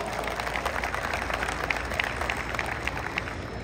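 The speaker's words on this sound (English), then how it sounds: "let's give David Garrard a big round of applause" Audience applause greets former NFL quarterback David Garrard at a Jacksonville Jaguars high school quarterback skills event outdoors, a steady wash of clapping from a crowd lasting a few seconds without talk over it.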